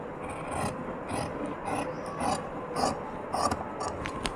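Scissors cut through cloth for a nighty in a run of close, rasping snips that repeat at an uneven rhythm.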